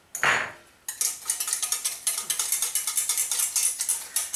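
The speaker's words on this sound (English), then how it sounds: "Then you're going to whisk in your vanilla." A whisk beats vanilla into a hot applesauce cake glaze in a pan, with a quick run of close metallic clinks and scrapes ticking steadily after a brief opening swish.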